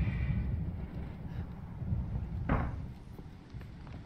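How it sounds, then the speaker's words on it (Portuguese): Gusting wind sweeps through an outdoor area in Resident Evil 7, a steady low roar with rising and falling swells and a brief brighter gust midway, no voices. "Nossa, tá ventando demais."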